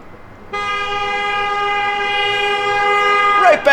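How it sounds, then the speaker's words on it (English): A loud multi-tone horn blares in one long, steady sustained blast outdoors along a Madison, Wisconsin lakeshore, then breaks off into a brief jumble of sound at the end; nearby and alone. "I have no idea who he was honking at"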